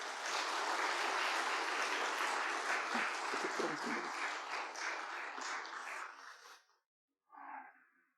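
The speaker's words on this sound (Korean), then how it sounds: "다시 한번 인사드릴 때 크게 박수해 주시기 바랍니다" A church congregation at a missionary sending service applauds loudly and steadily for several seconds, fading out, followed by a brief faint sound after a short silence.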